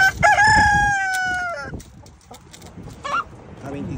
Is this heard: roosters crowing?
yes